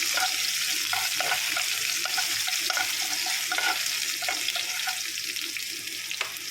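Crushed ginger and garlic frying in oil while being stirred for a chicken curry, a bright hiss with repeated short scraping strokes of a spoon, close and steady.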